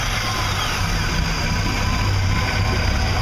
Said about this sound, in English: So go ahead and start the engine.